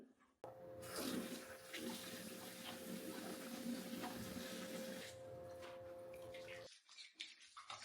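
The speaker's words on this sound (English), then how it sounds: "I'm going to lather this up" Running water from a tap splashes steadily while gel face cleanser is worked into a lather by hand, a continuous close hiss that stops abruptly near the end, followed by quiet room sound.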